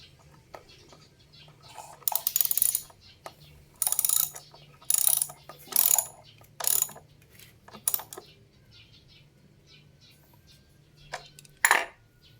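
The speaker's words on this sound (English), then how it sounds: "This socket is 13 millimeter, so use the socket to tighten the bolt" Ratchet wrench with a 13 mm socket tightening a bolt during a solar energy setup, heard as several short bursts of close metallic clicking separated by pauses, with no talk.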